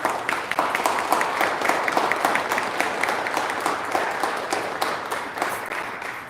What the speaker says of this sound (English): a round of applause for all the competitors